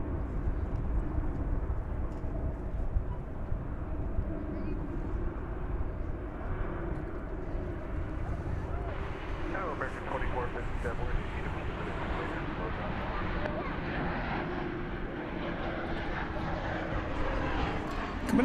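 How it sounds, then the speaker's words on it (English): An American Airlines Boeing 737-800 lands at DFW airport, a steady broad engine roar and rushing air that swells slightly partway through, with a voice talking over it. "Coming in from Bozeman, Montana is American Flight 817. It's a 737-800."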